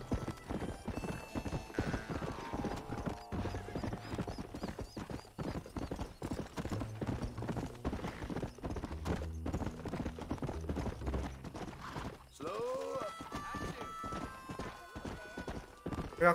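In the video game Red Dead Redemption, a horse's hooves clip-clop in a steady rhythm throughout, with a whinny and faint game sounds underneath.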